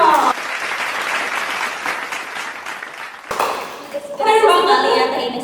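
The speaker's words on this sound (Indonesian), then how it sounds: "Tepuk tangan dong." Audience applause at a casual talk show, a dense round of clapping hands that continues steadily, with a brief break partway, while a voice speaks over the final seconds.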